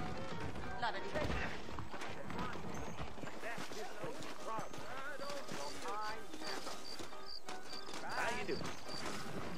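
Horse hooves clip-clop in the Western video game Red Dead Redemption, a steady rhythmic clopping beneath louder spoken dialogue, with a brief whinny-like sound.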